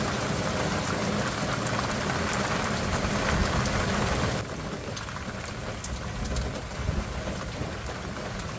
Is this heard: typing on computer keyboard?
no